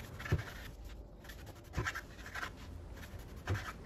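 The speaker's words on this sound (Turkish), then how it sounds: "4-5 adet bayatlamış, yırtılmış yufkalarım var. Onları gelişi güzel bir şekilde kesiyorum." A knife cuts stale, torn yufka pastry sheets into rough pieces, giving three soft scraping strokes about a second and a half apart, faint and up close with no talk.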